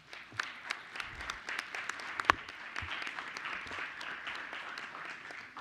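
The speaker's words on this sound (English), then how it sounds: "Please give them a round of applause." Audience applause fills a school board meeting room, a steady wash of many hands clapping at moderate volume for several seconds, with a few sharper individual claps standing out.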